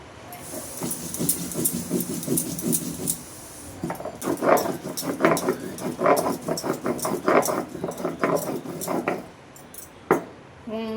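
Ginger, cumin and green chilli being ground into a paste on a stone, steady rhythmic rubbing and scraping strokes in close bursts with brief pauses between passes.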